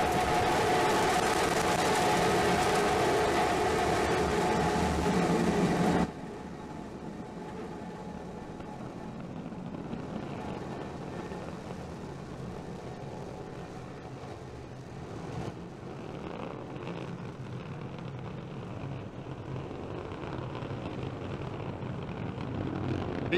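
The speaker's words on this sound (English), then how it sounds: "Starship 15 is airborne as we get a view of the three Raptor engines as we're powering our way to 10 kilometers altitude" SpaceX Starship SN15 prototype lifting off on a test flight under three Raptor rocket engines: a loud, dense broadband roar for several seconds, then a steadier, softer rumbling thrust that continues to the end.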